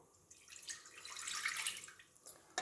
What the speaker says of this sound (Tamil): இதில் அரை கிளாஸ் தண்ணி ஊற்றிடுவோம்.